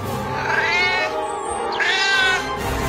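A cat meows twice, long drawn-out cries close by, with a short pause between them.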